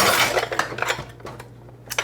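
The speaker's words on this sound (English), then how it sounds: "So I'm going to transfer these dishes," Dishes are moved by hand in a kitchen, producing a quick cluster of close clinks and clatters of plates and cutlery that fade into a few scattered knocks, with a final clink at the end.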